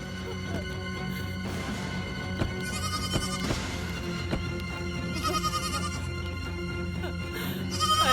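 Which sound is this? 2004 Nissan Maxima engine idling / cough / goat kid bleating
goat kid bleating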